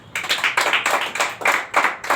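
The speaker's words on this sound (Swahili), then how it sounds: "Pigia Yesu makofi" A church congregation clapping hands for Jesus during a Swahili sermon: loud, unison rhythmic clapping in regular pulses, about eight strong beats over the span, close and full with no talk on top.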